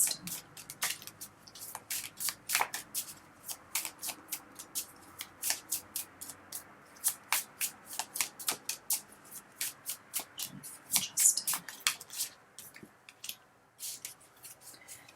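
A deck of tarot cards is shuffled by hand in a long run of quick, crisp riffles and slaps, close and fairly soft, recurring in a loose rhythm with brief pauses.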